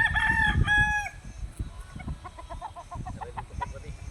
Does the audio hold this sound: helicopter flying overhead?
no